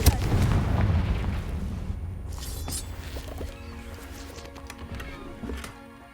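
Confringo blasting spell explosions from Hogwarts Legacy, a loud booming blast at the start that rumbles and fades, followed by scattered lighter impact pops and crackles over a fading tail.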